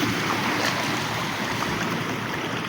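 Floodwater rushes through Semi village, damaging crops and houses, as a loud, unbroken roar of water close by, with no talking.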